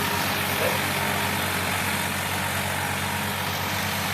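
Tractor engine idling steadily with a low, even rumble throughout, heard outdoors at moderate distance under faint background noise.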